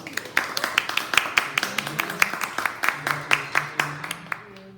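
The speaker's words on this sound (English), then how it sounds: "Give Shaylin a big round of applause." Small audience at a spring session talk clapping: a sparse run of distinct, crisp hand claps in a quick, fairly regular rhythm, close by and not dense, lasting a few seconds before tapering off.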